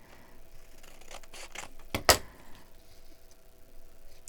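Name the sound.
scissors trimming paper ephemera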